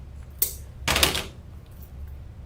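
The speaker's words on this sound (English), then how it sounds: "So you just cut your pipe cleaners" Scissors snip through craft pipe cleaners for a fall deco mesh wreath, with two close, crisp cuts in quick succession against quiet room tone.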